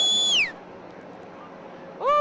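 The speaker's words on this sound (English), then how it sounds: "When they launched, I heard your big whistle." At a hot air balloon fiesta launch, a person gives loud, sharp whistles close by: a high falling note at the start and a second rising-falling blast at the end, with a quiet gap between them.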